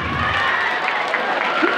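Junior high school students clap together during a psychology counseling session at a school in Denpasar, a steady wash of applause with crowd noise mixed in, filling the whole short stretch at moderate loudness.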